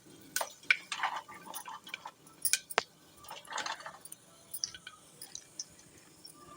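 Peppercorns dropped into hot oil and ghee in a pan sizzle and pop, giving scattered faint crackles and small spits at irregular intervals with a few clinking taps, close and quiet.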